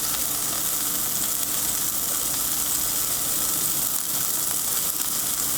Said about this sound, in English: we want to cook this pork without stirring for about 3 to 4 minutes